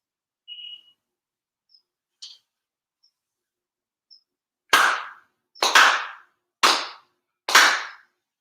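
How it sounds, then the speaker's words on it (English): Four sharp ritual hand claps at a Konko prayer ceremony, evenly spaced about a second apart and loud in a quiet room, after a few faint scattered small sounds. "4 sincere claps along with the head officiant"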